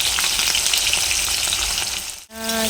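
Sliced onion rings frying in hot oil in a pan, a steady dense sizzle that runs loud and unbroken, briefly cut off near the end before resuming with a faint tonal hum.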